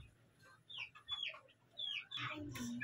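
Chickens cluck in a farm coop, with several short, bright calls scattered across a few seconds and a louder, busier stretch of clucking near the end, close to the listener.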